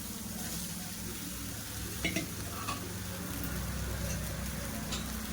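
Muthiya dumplings sizzling as they hit a pan of sautéed onion, ginger and garlic, a low steady frying hiss with a couple of brief clinks from stirring.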